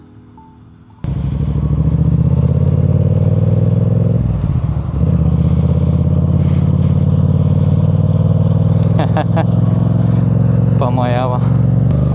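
A Yamaha MT-07 motorcycle is ridden at a steady pace, its engine a loud, continuous close drone with a slight dip in the middle, and brief talk near the end.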